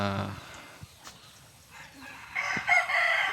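A native backyard chicken rooster crows close by, a short harmonic call at the start and a longer, louder crow near the end, separated by a quieter stretch with scattered clucks and small noises.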